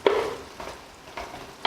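Tomatoes fry gently in a pan over low heat, a soft steady sizzle with a few brief stirring scrapes at the start, middle and end.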